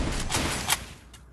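Rapid gunfire in an online shooter match crackles in quick bursts, three or four sharp shots over a constant noisy game background, fading toward the end.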